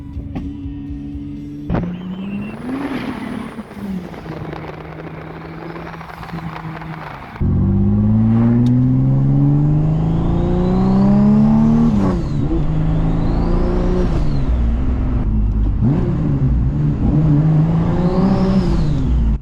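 A turbocharged Oldsmobile Cutlass wagon accelerates onto a freeway, quiet idle giving way to a loud engine climbing through gears with turbo whine and whooshes, then a steady cruising roar with passing traffic.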